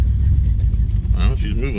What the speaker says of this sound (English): Let's give her some RPMs.